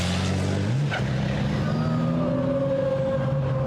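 Racing trucks circling the track during an FIA European Truck Racing Championship qualifying session at the Hungaroring, their engines droning steadily with rising and shifting pitch as the trucks pass at a moderate distance, with no talk.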